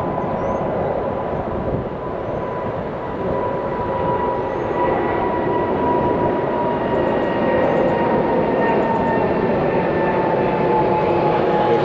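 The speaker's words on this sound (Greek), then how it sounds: "Α, και άλλο αεροπλάνο." A fixed-wing airplane passing over a golf club, a steady broad engine roar that holds loud and constant throughout with a faint tonal whine, no voices over it.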